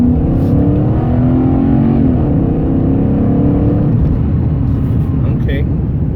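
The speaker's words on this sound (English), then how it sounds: "got a little acceleration there" A 2006 Dodge Charger R/T with a 5.7L HEMI V8 accelerates on a test drive, a steady loud engine drone rising slightly in pitch from inside the cabin, with a person talking over it.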